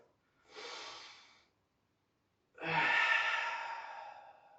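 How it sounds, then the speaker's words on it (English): A big deep breath during a gentle tai chi exercise: a short audible inhale, a pause of silence, then a longer, fuller exhale, close and clear with no talking. "Okay, nice big deep breath."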